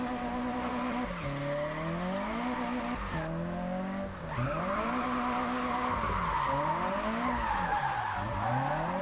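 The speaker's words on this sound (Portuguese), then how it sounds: "vamos fazer um drift de rua lá, ó" A street drift car skids in the Japanese Drift Master video game, with loud, continuous tire squeal over an engine that revs and swoops up and down through repeated slides.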